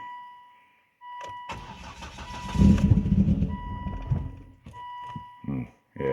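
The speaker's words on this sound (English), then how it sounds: "Sounds like it's wicked skipping a couple cylinders or something." A Volvo XC70 engine, just rewired with a new timing belt, starts and runs rough at night, sputtering and skipping cylinders in an uneven, loud churn near the microphone, with a steady warning chime and brief voices around it.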